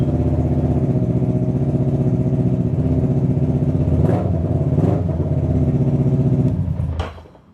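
A Kawasaki ER6 600cc two-cylinder motorcycle engine runs at a steady idle with a throbbing pulse, loud and close, with a couple of light blips of the throttle before it fades at the end.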